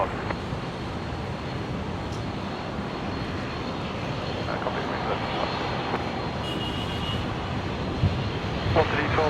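Rescue 533, an aircraft arriving at Brisbane Airport, produces a sustained jet roar that builds slightly toward the end, with faint voices in the background.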